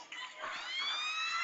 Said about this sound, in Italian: la sirena dice che può chiudersi qua questo sofferto Pumas Ancora